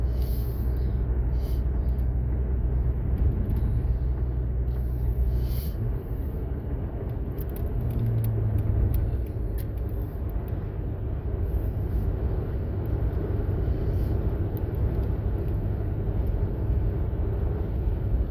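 A 2011 Dodge Avenger cruises along the road, heard from inside as a steady, fairly loud drone of engine and tire noise that runs unbroken from start to finish, with no talk.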